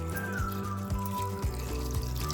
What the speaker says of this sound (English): I'll add enough water